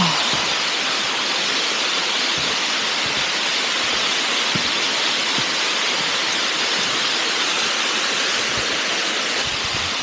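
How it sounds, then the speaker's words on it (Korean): An artificial waterfall on Gangcheonsan mountain in autumn gives a steady, dense roar of falling water that stays loud and unbroken throughout, with no voices over it. "저쪽에도 폭포가 있습니다"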